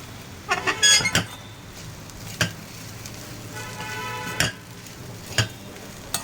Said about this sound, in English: this poli has to be nice and fried in this oil or tup